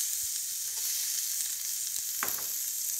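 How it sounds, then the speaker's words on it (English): Finely chopped onion frying in olive oil in a pan makes a steady, hissing sizzle, with a brief clatter near the end. "So I'll add some extra olive oil and then some finely chopped onion"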